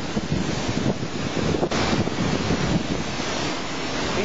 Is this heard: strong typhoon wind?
yes